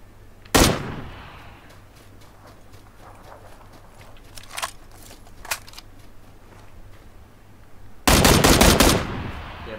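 PUBG gunfire in a video game: a sharp burst of shots early, scattered single cracks in the middle, then a loud sustained rapid burst near the end over quiet background noise.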